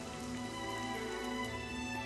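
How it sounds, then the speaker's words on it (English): Steady downpour of rain in the Albion setting of the fighting game Granblue Fantasy Versus: Rising, a dense continuous hiss of drops pattering on surfaces with no voices over it. "Rain continues to pour in Albion"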